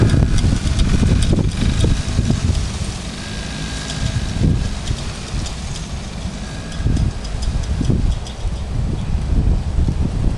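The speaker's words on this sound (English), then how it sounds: "Show Uncle Bad Boy how you ride a mini bike." Two small Kawasaki KDX50 mini bike engines run outdoors around a house, a steady buzzing drone that swells and fades as the bikes pass, mixed with wind noise on the microphone.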